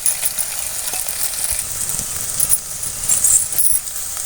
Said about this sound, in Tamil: எண்ணெயிலே காய் நல்லா வதங்கிடுச்சு